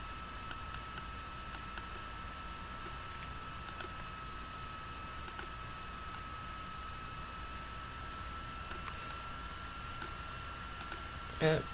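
Computer mouse clicking repeatedly while cloning out details in a photo editor, sharp isolated clicks spaced irregularly over a steady electronic whine and hiss, with someone talking quietly at times.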